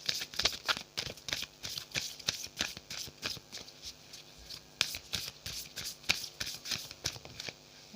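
Moon tarot cards being shuffled by hand, a quick steady run of crisp riffling flicks and soft slaps, close and fairly quiet, with no talk.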